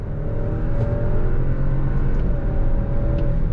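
Engine of a 2022 Alfa Romeo Stelvio sport SUV hums under load from inside the cabin, a steady loud drone with slight pitch shifts as gears change quickly, no voices.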